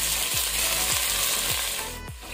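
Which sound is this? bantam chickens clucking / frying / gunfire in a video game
frying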